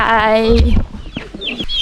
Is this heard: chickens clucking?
yes